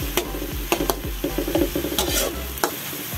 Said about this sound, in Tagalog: Gisa po natin ito hanggang sa magbawas lamang po yung kanyang kanyang sabaw.